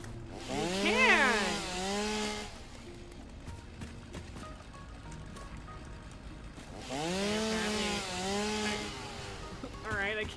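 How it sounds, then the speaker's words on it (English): A video game chainsaw cutting down a tree revs in two loud rising and falling bursts, with a quieter idling stretch between them and no speech over it. "They have made the chainsaw noise significantly less annoying than it was originally."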